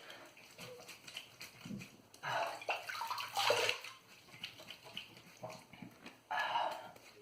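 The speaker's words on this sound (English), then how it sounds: "Rinse it off and go for a second." A Razorock GC68 safety razor being rinsed under running water, with intermittent splashing and water bursts close by at low volume, swelling louder near the middle and end.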